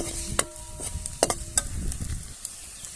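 Onion fries in a pan with red chilli powder, turmeric and coriander added, a quiet sizzle under a few sharp clinks and scrapes of a spoon against the pan, close by with no talking.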